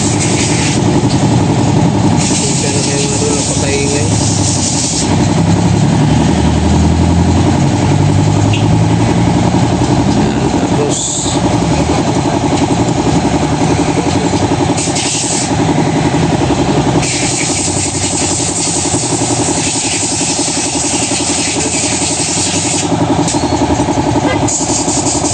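Honda Click scooter rear wheel spun by hand during repair, giving a steady mechanical whirring and rattling noise that runs continuously at close range, with brief dips and louder surges, under occasional talk.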